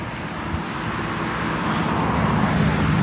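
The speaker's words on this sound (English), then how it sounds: "Oh, and cars." Steady road traffic with cars passing on a nearby road, a continuous broadband rush that slowly builds louder toward the end, with no talking.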